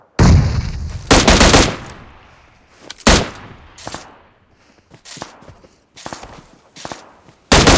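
Gunfire in the PUBG Mobile battle royale game: loud sharp bursts of automatic shots, with several separate volleys and shorter single shots in between, close and punchy, with no talking.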